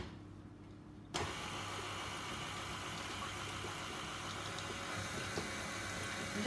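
KitchenAid stand mixer switching on abruptly after a quiet moment, then running with a steady motor whir while mixing wholemeal chocolate cake batter, no talk.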